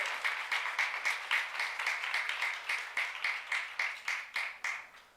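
A church youth-service congregation claps together in a steady, even rhythm, about three claps a second, holding the beat for several seconds at a moderate distance with no talk over it.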